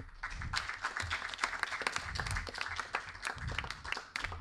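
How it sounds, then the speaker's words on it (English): Audience of interns at an IIT Bombay X summer internship event applauding, crisp continuous clapping with distinct individual claps audible throughout. "give a huge round of applause for yourself being deserving enough to be a part of IIT Bombay X"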